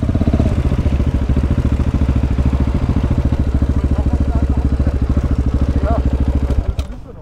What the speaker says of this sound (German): Motor kalt, erstmal Begrenzer